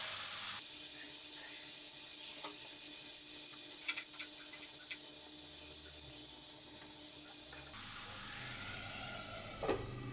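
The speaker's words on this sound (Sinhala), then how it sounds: "අපි මැරිනේට් කරගත්තු චිකන් එක මේ විදිහට ෆ්‍රයි කරගන්න ඕනේ." Marinated chicken frying in a covered pan at home, a soft continuous sizzle with faint crackles running throughout at low volume.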